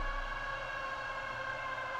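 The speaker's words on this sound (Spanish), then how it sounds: "Es que acaba de pasar una ambulancia," An ambulance siren sounds outside, a steady tonal wail heard faintly from a distance and holding without breaks.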